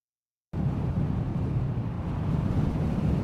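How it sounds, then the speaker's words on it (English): A deep wind sound effect starts abruptly after a brief silence and then roars steadily and continuously, heavy in low rumble with a soft airy hiss above. "So this second wind here is deeper, and the first one is brighter."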